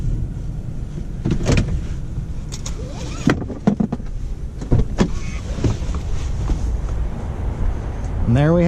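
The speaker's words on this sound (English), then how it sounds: "Proximity key, so I just locked the car from the door handle" A 2019 Toyota Corolla XSE hatchback locks from the door handle with its proximity key, giving a few short clicks and mechanical clunks. Talk runs underneath throughout, with a brief rising electric whir near the end.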